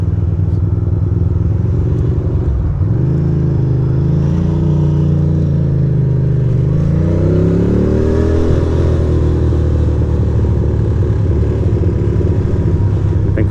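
A motorcycle cruises through the streets of Williamsburg, Brooklyn, its engine rumbling loud and close throughout, rising and falling in pitch as it revs and shifts, with wind buffeting over the steady drone.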